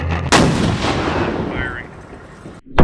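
A single heavy cannon shot booms loudly near the start and rolls out into a long fading rumble, with a second sharp blast cutting in just before the end.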